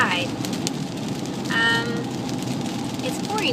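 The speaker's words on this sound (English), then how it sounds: "It's pouring rain" Heavy rain pours steadily onto a car with a gearbox fault, a dense continuous hiss and patter filling the cabin, with a brief electronic chime or tone partway through.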